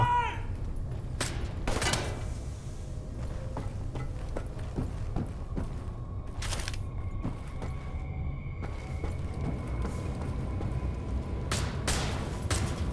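Gunfire in the World War II shooter Wolfenstein: The New Order, aboard a U-boat level: sharp bursts of shots at irregular intervals over a steady low rumble, with faint voices in the background.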